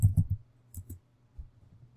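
A pair of quick, crisp computer mouse clicks up close at the start, followed by a few fainter clicks in an otherwise quiet room.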